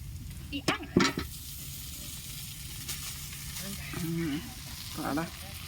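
Batter poured into a hot pan during outdoor village cooking hisses and sizzles in a steady, moderate wash, with a few sharp scraping knocks and voices talking in the background.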